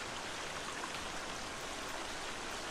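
Water in a cave in The Forest makes a steady, even hiss of trickling and splashing, like a stream or falling rain, close and unbroken the whole time.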